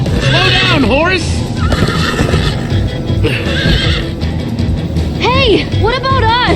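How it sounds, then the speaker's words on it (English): Horses in the video game Minecraft: Story Mode whinny several times in rising and falling calls over a steady galloping, clip-clopping beat, loud and close, while a voice talks throughout. "Slow down, horse!"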